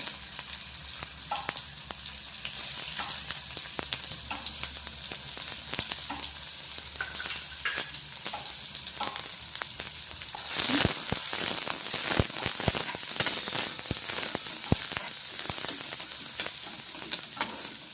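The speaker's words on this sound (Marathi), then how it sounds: "जिऱ्यानंतर आपण लगेच कांदा टाकून घेणार आहोत" Onion goes into hot oil after cumin seeds for ridge gourd bharit, producing a continuous close sizzle with frequent stirring clicks and a louder hissing surge partway through, with no speech.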